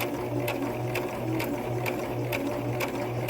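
A sewing machine stitches fabric with a steady, fairly quiet mechanical whir. Regular light ticks mark each stitch.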